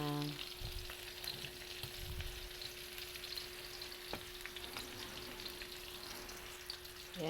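Garlic, onion and chili sizzle steadily in a pan while being sautéed, a continuous close frying hiss with occasional stirring scrapes and faint ticks throughout, no voices.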